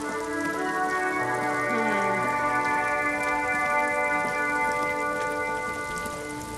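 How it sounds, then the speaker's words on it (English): Rain falling in the noir detective video game Disco Elysium, a steady hiss of drops running beneath sustained tonal music, even and unbroken from start to finish. "Stuck in the rain in a traffic jam"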